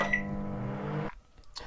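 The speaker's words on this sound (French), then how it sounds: "au moins ça sera plus simple pour le faire fondre avec le micro-ondes" Microwave oven running to melt butter for shortbread biscuits, a steady close humming drone with a tonal whine that stops abruptly, followed by faint clicks and a short beep.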